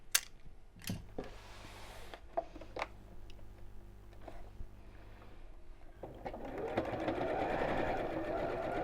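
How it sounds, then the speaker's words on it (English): A sewing machine stitches fabric for a child's drawstring backpack, starting with a few clicks and a low steady hum before speeding into a louder continuous whir near the end. "So I'm just going to sew around the bottom 3 sides."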